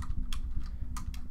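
Rapid typing on a computer keyboard while entering Python Pandas code, a quick run of soft, close key clicks with no talk over it.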